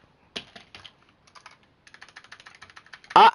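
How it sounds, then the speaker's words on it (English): Computer keyboard being typed on in quick, uneven bursts of clicks, close and fairly quiet, ending with a louder clack. "Is it because I'm on the keyboard?"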